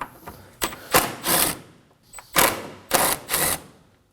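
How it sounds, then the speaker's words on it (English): Bolts on the upper radiator bracket of a 2016-2020 Kia Sorento 2.4L come out with a 10mm socket ratchet, giving several short bursts of rapid ratchet clicking with brief pauses between, close and fairly loud. "Using a 10mm socket, we're gonna go ahead and remove both of these bolts."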